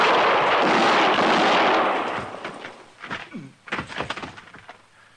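Gunfire in an old-time Western radio drama shootout: a heavy, booming blast dominates the first seconds, then dies away into several sharper, echoing shots and thuds, with no voices heard.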